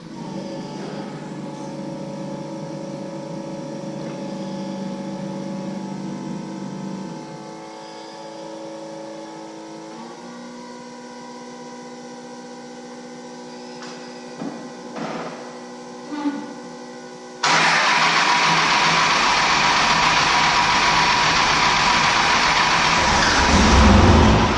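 A 12 valve Cummins diesel engine with new injectors idles with a steady humming drone, then roars louder and rougher near the end as it revs, close and without talk.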